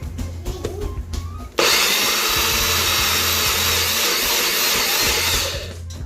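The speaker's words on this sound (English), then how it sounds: "I'm about to grind this up in my NutriBullet" A NutriBullet blender grinds sea moss, starting abruptly after a quieter moment and running as a loud, steady, close-up roar for about four seconds before winding down.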